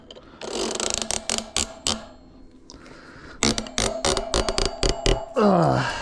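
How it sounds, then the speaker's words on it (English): A cassette tool ratchets as a bicycle cassette is tightened onto a Bafang G62 hub motor, giving close, repeated clicking bursts in two runs with a short pause between them. "And now we can tighten my cassette back on here."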